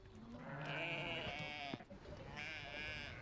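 Sheep on a transhumance drive bleat while being milked by hand into a bucket, two long wavering bleats at moderate distance over a soft outdoor background, with no talking.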